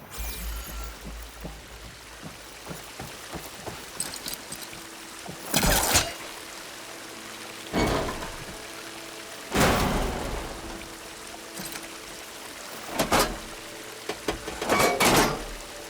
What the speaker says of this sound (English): The water is still leaking.